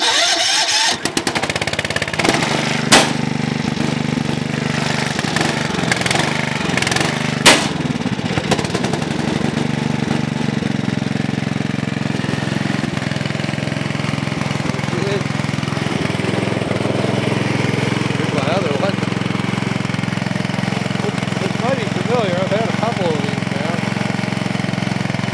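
A small engine starts on full choke in a junked vehicle and settles into a loud, steady idle with a persistent rattle, running alone without talk.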